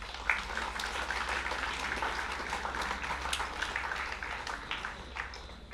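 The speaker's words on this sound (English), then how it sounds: "Please give them a round of applause" A crowd at a Waitangi Day commemoration in Apia, Samoa, gives scattered, fairly soft applause for new citizens. The clapping runs steadily throughout over a low, constant electrical hum.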